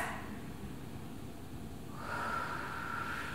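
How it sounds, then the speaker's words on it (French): A deep, long exhalation during an abdominal breathing exercise lying on the stomach, a steady breathy rush that swells louder partway through and holds for a couple of seconds, close and alone. "La dernière grande respiration avec le transverse."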